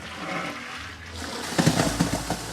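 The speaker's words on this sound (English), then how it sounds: "Go in with our boiling water." Boiling water is poured into a pot holding lobsters, a rushing splash that starts softly and swells louder after a second, close by and with no talking.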